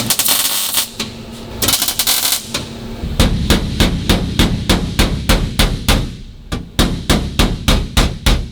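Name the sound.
hammering sheet metal floor pan edges before welding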